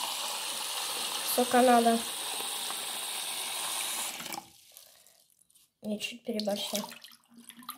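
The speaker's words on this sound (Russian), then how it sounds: "Сейчас наберем в него воду" Tap water runs steadily into a plastic cup for about four seconds, a constant close rush that then stops, and someone speaks briefly over it and afterward.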